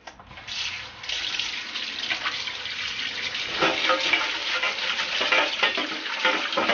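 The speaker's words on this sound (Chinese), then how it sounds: "把处理好的腰花装入漏勺中，用清水清洗干净。" Tap water runs steadily over sliced pork kidney in a metal colander, a continuous splashing rush that swells louder midway with gentle clattering as the slices are rinsed.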